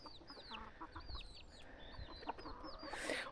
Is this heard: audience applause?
no